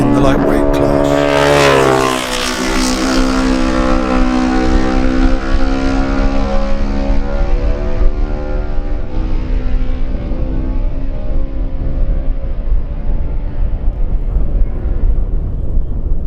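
Lightweight-class racing motorcycles, including Kawasakis, at a road race, one machine screaming past close by with a sharp pitch drop, then its engine fading into the distance, under a commentator's voice.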